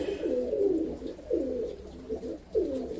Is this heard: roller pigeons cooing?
yes